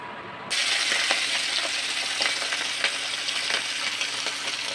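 Hilsa fish frying in oil: a loud, steady crackling sizzle begins abruptly and continues throughout, with occasional small pops and no talking.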